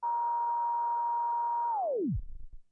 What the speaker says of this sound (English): there is a continuous tone